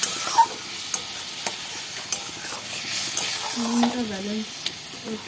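Ground cumin and coriander fry in a hot pan with a soft, continuous sizzle and hiss, broken by light periodic taps of stirring, while a brief voice sounds in the background.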